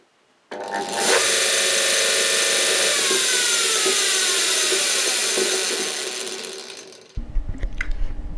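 A homemade generator in a free-energy test spins up with a loud, steady whir and a rising whine that holds for several seconds, then cuts off into lower, rougher mechanical rattling.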